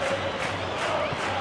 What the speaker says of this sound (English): Well, the crowd clearly liked what they just saw.